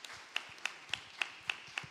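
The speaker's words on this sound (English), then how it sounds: "Everybody clap, Miss Kelly has a joy." A church congregation claps in a steady rhythm of about six sharp, evenly spaced beats, fairly faint and heard alone without speech.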